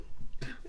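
A single sharp cough bursts out after a short stretch of low murmuring, close and abrupt, followed by a brief throaty tail.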